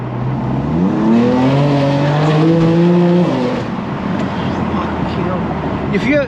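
A BMW M4 engine revs and climbs through its gears in a tunnel, the roar rising and echoing, loud and close throughout.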